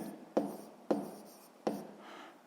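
Handwriting in a sixth-grade maths exercise book makes quiet scratches of a pen or pencil on paper. Several short strokes begin with soft taps and trail off, close to the page.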